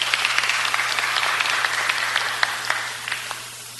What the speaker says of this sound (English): Yes, give a round of applause, folks.